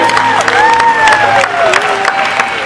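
Loud, sustained applause and cheering from a studio audience at a live Fear Factor show, a dense crowd roar with shouts and whoops riding over the clapping throughout.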